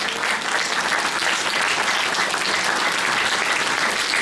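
A church congregation applauds at a 25th anniversary gathering in Kathmandu, a dense, sustained wash of many hands clapping at an even loudness with no speech on top.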